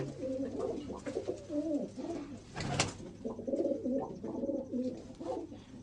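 Pigeons coo softly in repeated throaty rolls, fairly close, with a brief rustle or flutter partway through.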